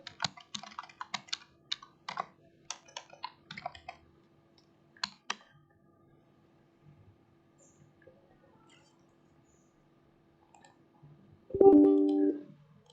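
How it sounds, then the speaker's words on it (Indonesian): Computer keyboard typing in a quiet room: bursts of quick, close key clicks with short pauses, then a long near-silent gap and a brief tonal sound near the end. "Kita ketik dulu."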